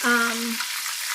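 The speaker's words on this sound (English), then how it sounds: "I'm gonna fry it for about another like 2 or 3 minutes" Steady hiss of chicken drumsticks deep frying in oil, following a brief tonal hum at the start.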